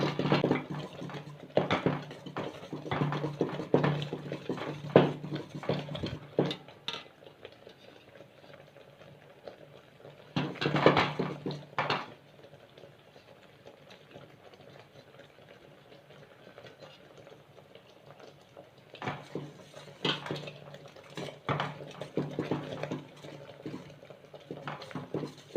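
Jaggery syrup for adhirasam boiling in a pan, giving a steady bubbling that rises into louder, busier bursts near the start, in the middle and toward the end, with no voices.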